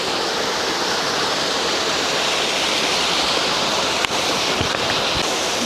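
Hugasan Falls, a waterfall in Tagaytay with a river course blocked by large landslide boulders, pours in a loud, steady roar of rushing water, with a brief knock near the end.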